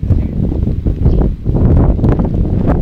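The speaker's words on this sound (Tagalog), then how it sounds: "Tungod ang hangin gikan dire." Wind buffets a pakchoi greenhouse in steady, loud gusts with rustling and mic rumble throughout, no clear talk over it.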